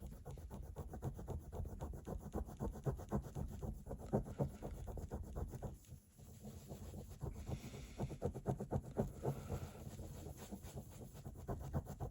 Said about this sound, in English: Give that a good rub. A lot of elbow grease goes into it.